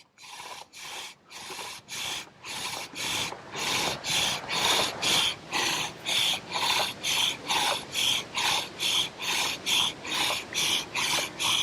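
A bow drill spindle rubs against a fire board in steady back-and-forth strokes, about twenty rhythmic rasping pulses growing louder and faster, close and alone without talk.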